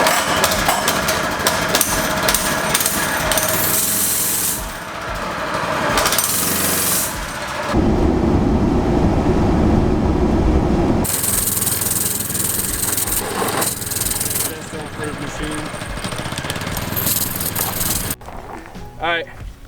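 An amphibious go-kart's engine runs loud and close with a harsh, rattling mechanical drone that shifts in character over about twenty seconds, dropping into a deeper rumble partway through before cutting off near the end.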